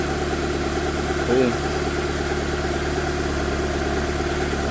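A car engine, freshly repaired with its cylinder head bolted back on and the cooling system refilled, idles with a steady low hum. A brief spoken word cuts in near the start.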